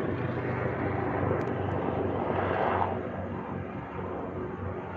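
Helicopter flying without navigation lights over suburban Cairns at night, a steady broad rotor and engine roar that swells slightly near the middle, then eases a little as it moves away, with no talk.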